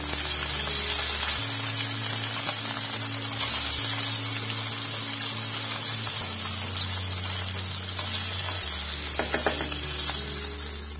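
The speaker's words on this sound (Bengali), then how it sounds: "মাছগুলোর একটা সাইড ভাজা হয়ে যাওয়ার পরে আমি আর একটা সাইড আস্তে আস্তে তুলতে দিচ্ছি।" Rui fish fry steadily in hot oil in a Bengali kitchen as the pieces are turned to the other side. The sizzle is continuous and close, with a low mechanical hum underneath.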